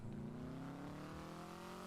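A car engine in GTA roleplay hums and revs steadily, a smooth rising drone that holds for a couple of seconds at low level with no talk.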